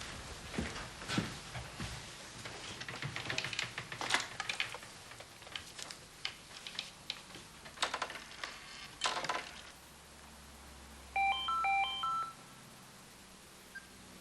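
Telephone dialing: several seconds of faint handling and clicking noises, then a low hum and a quick series of tonal DTMF beeps as a number is keyed, quiet and close.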